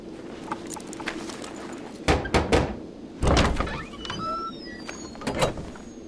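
A door is opened in a period drama scene, with scattered clunks and rattles followed by a couple of heavy thuds at moderate loudness against a quiet room.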